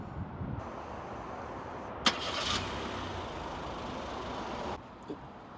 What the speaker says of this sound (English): I'm going to start it up again, but I'm going to do it with my phone here